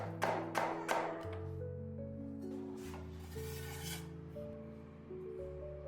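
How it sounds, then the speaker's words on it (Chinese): A knife slices peeled old ginger into thick pieces on a board, giving a few sharp chopping taps at the start, then quieter rubbing cuts under a steady background tone. "同样切成厚片。"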